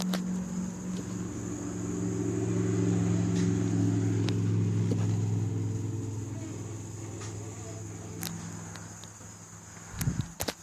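A car's clutch gives off a steady, thin high-pitched squeak over a low, droning engine rumble, recorded close by with a few faint clicks and a brief knock near the end.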